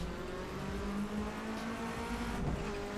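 A car in Assetto Corsa held in a steady engine drone with a rising tire squeal, the motor humming close and loud through a handbrake slide.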